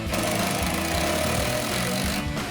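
A cordless drill whirs steadily, driving screws during a rear spoiler install on a 2010-2014 Ford Mustang, the motor buzzing loud and continuous and then briefly easing off near the end.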